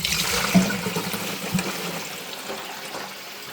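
Water pours and trickles out of a toilet tank after the fill valve is pulled, a steady close gush that gradually eases toward a softer dribble.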